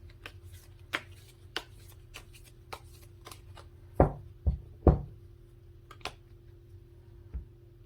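Tarot cards being shuffled and handled at close range: soft, scattered flicks and taps, with a few sharper knocks around the middle, over a quiet room and no speech.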